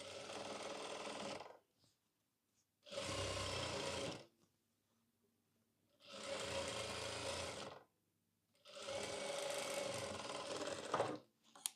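A sewing machine stitches ladies' pant fabric in four separate close-up bursts of rapid mechanical clatter, each lasting one to two seconds, with quiet gaps between them.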